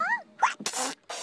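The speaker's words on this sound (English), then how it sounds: "What a lot of Tomblyboo sneezes." A character in a children's TV show lets out a quick string of cartoonish sneezes, each a short, loud burst separated by brief gaps, with no talk.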